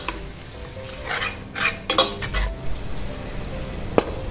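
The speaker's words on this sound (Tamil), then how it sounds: "தயிரை சேர்த்து நல்லா கிண்டி விட்டுக்கலாம்." A spoon scrapes and clanks around a metal pot in repeated strokes as yogurt is stirred into a biryani base, with a soft sizzle of cooking underneath, close by and without speech.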